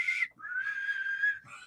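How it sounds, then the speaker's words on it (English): Shrill human whistling, a short note, then a long sustained wavering tone, then a brief final note, heard alone and fairly clear. "whistling, especially people insist on doing it when they're bad at it."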